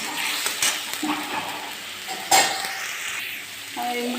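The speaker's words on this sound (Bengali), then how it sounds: "এবার এটাকে আমি ভালো করে ভেজে নেব আদা রসুন পেস্ট দিয়ে" Ginger garlic paste fries in a pan for a paneer dish: a steady close sizzle with stirring scrapes throughout and one sharp utensil clatter partway through. No one speaks.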